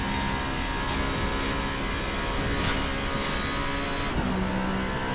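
Formula-style race car engine in VRC Formula Alpha sim racing at Interlagos, a steady loud high-revving drone holding throughout with a brief pitch drop near the end, no voices.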